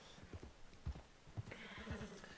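Horse hooves clip-clop in Red Dead Redemption 2 Online as a horse is ridden along a road, a series of irregular soft thuds close by over a low ambient bed and faint wind, with no talking.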